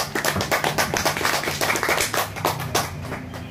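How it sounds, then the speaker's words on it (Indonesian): An audience at an agricultural training event claps steadily, many quick overlapping hand claps forming continuous applause at moderate loudness. "Boleh berikan tepuk tangan merah buat Pak Andi Rosadi"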